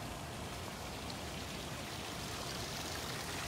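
A small river flows with a constant, broad rushing and burbling, steady and fairly faint, with no voices.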